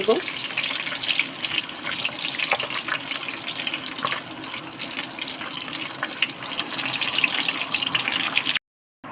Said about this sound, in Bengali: গরম মশলাগুলো আমি কিছুক্ষণ একটু তেলে ভেজে